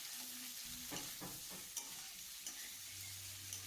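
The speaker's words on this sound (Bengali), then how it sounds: "আলু আর ফুলকপি এইভাবে তেলের ওপরে হালকা করে একটু ভেজে নেব" Potato and cauliflower pieces with turmeric and Kashmiri red chili powder fry softly in oil, a quiet sizzle broken by a few light stirring scrapes and taps.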